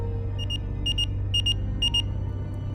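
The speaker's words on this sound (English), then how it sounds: "Everybody got beeped at the same time." Several pagers sounding at once, short paired electronic beeps repeating in an even rhythm four times over a steady low hum, no voices.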